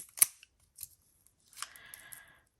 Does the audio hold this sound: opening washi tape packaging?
yes